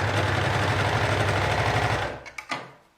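A sewing machine stitches a long maternity skirt with a loud, close, fast-pulsing motor drone that runs steadily for about two seconds, then stops, followed by a few sharp clicks and taps.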